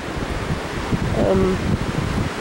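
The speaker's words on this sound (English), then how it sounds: "here's the ocean. It's pretty choppy today. It's a little bit windy." Wind buffets the microphone steadily over the rush of choppy ocean waves, a continuous noisy roar with a brief tonal whine midway.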